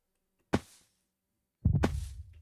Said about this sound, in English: that heartbeat goes